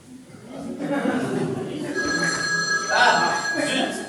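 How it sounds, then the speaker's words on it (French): A mobile phone rings in a room, its bright electronic tone repeating steadily for a few seconds over ongoing background chatter and movement. "encore ce foutu portable"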